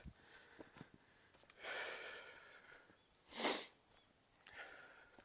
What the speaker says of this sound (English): Sorry, I'm sniffling.